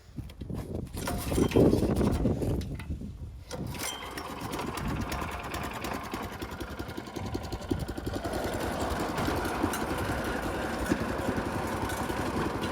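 A McLane 20-inch Greens Keeper reel mower, American made, runs under its own power after a pull start, its small engine buzzing steadily and close by with a rapid mechanical chatter that keeps going throughout.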